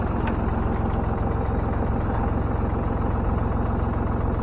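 A tractor engine runs steadily, hooked up to drive an auger, with a continuous low, even rumble close by and no talk over it.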